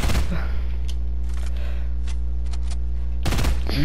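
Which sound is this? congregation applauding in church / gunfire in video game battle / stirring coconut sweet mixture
gunfire in video game battle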